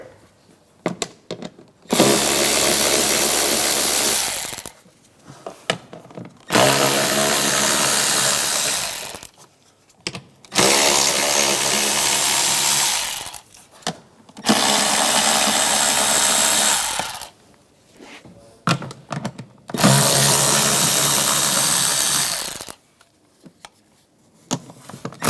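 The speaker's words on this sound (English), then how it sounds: "take these bolts out" A power ratchet with an 8mm socket spins bolts out of the engine cover on a 2009–2013 BMW 328i xDrive 3.0L inline-six, five loud sustained whirring bursts separated by quiet pauses with faint clicks.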